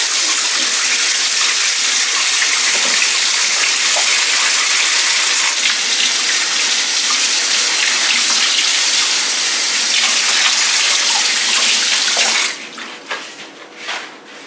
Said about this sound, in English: Each leaf, rinse it off, and then lay it on my cutting board.